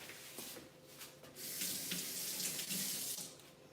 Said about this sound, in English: you have to wash your hands a few times